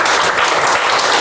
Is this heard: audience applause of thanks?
yes